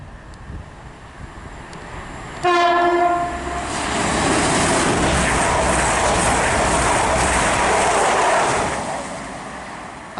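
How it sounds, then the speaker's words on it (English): An East Midlands Class 222 diesel unit roars through St Albans City station, opening with a loud horn blast, then a long, close, steady rush and rumble of wheels as it passes. "also coming through will be a East Midlands train service from Sheffield to London St Pancras"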